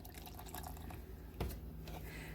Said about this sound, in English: I'm going to add a little bit more protein shake